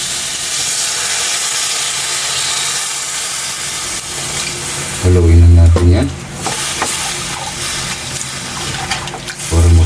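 Water pours steadily into a cooking pot for salmon sinigang with a continuous splashing hiss, joined midway by a low hum and some brief background talk.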